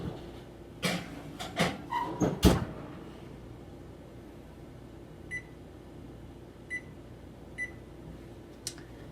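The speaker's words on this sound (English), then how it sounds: "Those beeps were my 7-minute timer." A kitchen timer beeps a few short, faint times in a home kitchen during pizza baking, after some louder clattering and knocking from cupboards or cookware early on.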